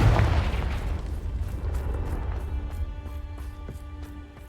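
Explosion from the Confringo spell in the video game Hogwarts Legacy, a loud booming blast at the start that rolls into a long fading rumble, with soft rhythmic thuds trailing behind.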